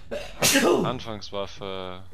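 A person with a cold sneezes once, a sharp, close burst in a German-language GTA Online gaming session. Voiced speech follows right after the sneeze.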